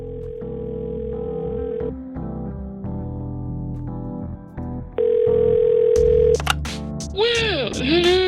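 A telephone call being placed: steady dial tone, a quick run of touch-tone dialing beeps, then a ringing tone on the line, clear and close with a little talk over it.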